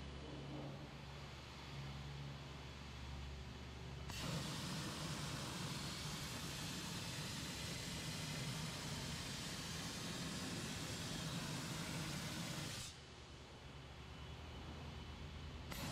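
A Champ Vario dry ice blasting machine blasts in a loud, steady roaring hiss that starts abruptly, holds for about nine seconds and then cuts off, with a lower machine hum before and after.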